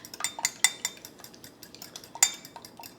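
Eggs are whisked in a bowl for mini quiche, a utensil clinking and tapping lightly against the sides in an irregular, quiet rhythm, close up with no talking.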